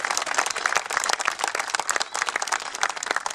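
An outdoor crowd at a town-centre inauguration in Rivedoux-Plage on the Île de Ré claps for the mayor, dense, steady applause from many hands close by.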